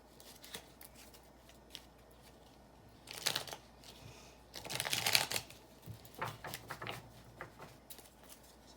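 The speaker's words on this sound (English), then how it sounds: "we're going to pull the Lenormand cards." Lenormand cards being shuffled by hand, soft papery riffles and flicks in several uneven bursts, loudest in the middle, close but quiet with no talking.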